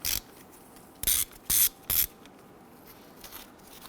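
A ratchet fitted with a 10mm socket loosens the ABS sensor bolt on the front knuckle of a 2011-2021 Jeep Grand Cherokee. It gives four short, sharp ratcheting bursts close by, with quiet gaps between them.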